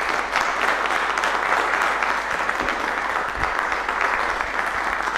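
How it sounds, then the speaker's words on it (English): Warm audience applause for speakers at the end of a day of talks, a dense, steady wash of clapping from a seated crowd, sustained and fairly close. "Can we have a round of applause for all of our great speakers today?"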